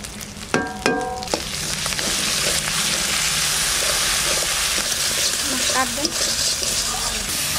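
Red chili and cumin dropped into hot oil in a pan while cooking a village-style katla fish curry with potato and tomato, giving a sharp initial crackle that settles into a steady loud sizzle, with a voice talking over it.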